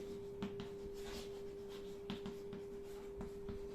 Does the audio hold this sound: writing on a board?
yes